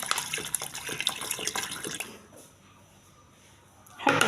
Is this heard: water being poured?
yes